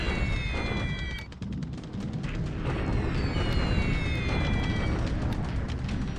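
A continuous, dense rumble of bombing explosions from a Pacific war strategy video game plays throughout, with a few high tonal sweeps layered over the steady roar.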